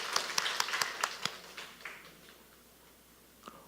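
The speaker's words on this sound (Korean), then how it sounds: "우리 박수합시다. 박수." A handful of people at a mothers' prayer meeting clap briefly, about half a dozen distinct claps that quickly fade into a quiet room, with a faint voice near the end.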